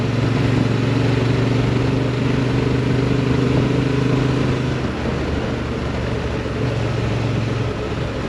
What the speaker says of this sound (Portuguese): E o motor tem uma disponibilidade, pá, que é uma coisa impressionante.